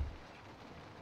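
In the horror game Project Nightmares, soft rain falls steadily on a window, a low, even patter heard alone after a brief thump at the start.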